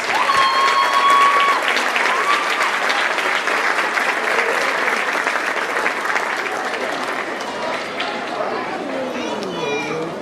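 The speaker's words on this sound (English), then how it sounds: "So if you could give them a round of applause" An audience at a middle school fall music concert applauds steadily, a dense wash of clapping that holds for about ten seconds with scattered children's voices and chatter underneath.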